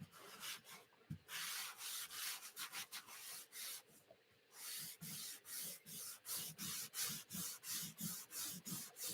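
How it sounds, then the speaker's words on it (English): Wet screen-printing paste being rubbed off a silk screen with quick back-and-forth strokes, a steady run of close, loud scrubbing swipes with a couple of short pauses. "Rub all the extra paste off."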